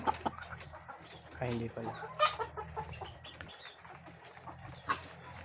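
Chickens on an RTL poultry farm cluck intermittently, close, in short bursts with quiet gaps between them, while a person speaks briefly nearby.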